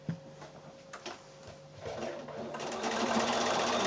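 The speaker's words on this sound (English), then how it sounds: "now I'm going to take that back to the machine and start sewing right from the end" Sewing machine stitching binding onto a quilted wall-hanging, starting with a few separate clicks and handling noises, then running up into a steady, whirring stitch that grows louder and continues to the end.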